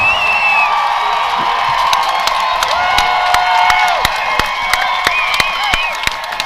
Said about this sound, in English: Listen to that crowd. They are loving it.